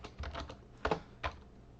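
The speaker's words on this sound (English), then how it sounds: "you just type in cd and enter" Typing on a computer keyboard for a command-line entry, a short burst of quiet, close key clicks followed by two sharper strokes like an enter press.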